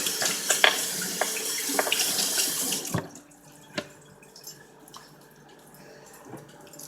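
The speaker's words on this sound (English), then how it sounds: "So I'm going to wash my hands" Tap water runs steadily into a sink as hands are washed, a dense hiss that cuts off abruptly partway through, leaving a few faint drips and small clunks in a quiet room.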